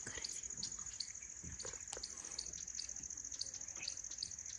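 Birds chirp in short, repeated calls over a steady high insect drone in the forest on a jungle safari at Jhalana near Jaipur, moderately distant with faint background noise.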